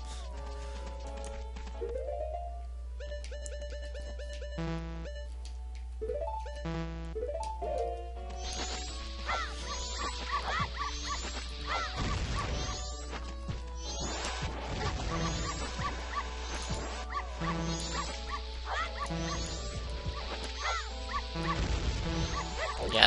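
Dogs bark and yip through the dog race minigame in The Legend of Zelda: Majora's Mask, mixed with busy game music and effects; the barks are steady and moderately loud under the soundtrack.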